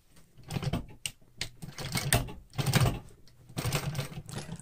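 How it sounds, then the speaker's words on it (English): Sewing machine running in bursts while top stitching two rows along a denim jeans front pocket, several stop-start runs of rapid needle chatter, close and fairly loud, no talking. "I'm doing 2 rows of top stitching."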